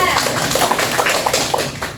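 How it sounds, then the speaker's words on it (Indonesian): A classroom group applauds a presenting team of students with a brief burst of brisk clapping, with voices mixed underneath. "tepuk tangan untuk kelompok 3"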